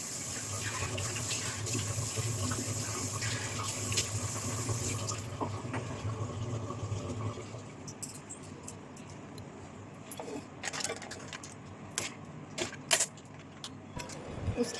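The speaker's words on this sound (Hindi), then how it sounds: "तो सबसे पहले वॉश करूँगी मैं अपना फेस नॉर्मल पानी से" Tap water running at a sink as a face is washed with plain water, a steady loud stream for several seconds, then quieter with intermittent splashes and clinks of handling.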